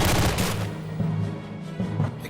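Gunfire from hip shooting in the WWII game Darkest Hour, several booming shots in quick succession at the start, then scattered lighter reports over a continuous rumbling battle background.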